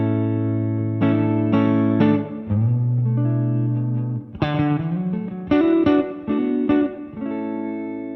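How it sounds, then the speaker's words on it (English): A 1964 Fender Stratocaster played clean through a Two-Rock Studio Signature and a Fender Deluxe Reverb amp, sounding sustained chords and single notes with sharp attacks, loud and close, with no talking. "and here's the clean signal."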